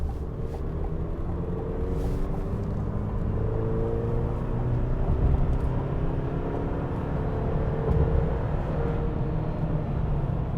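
2022 Chevrolet Silverado 1500 with a 2.7 liter turbo four-cylinder on a road test drive, heard from inside as a steady low engine drone with slowly rising tones under road rumble.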